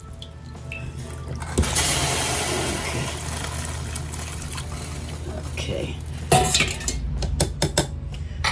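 Dried purple hull peas rattle and clatter into a metal pot, with clinks of a utensil and running water, near and busy; a voice speaks briefly.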